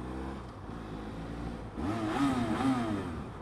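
BMW F700GS motorcycle engine idling steadily, then revving up sharply around the midpoint with rising, wavering harmonics, close and loud throughout.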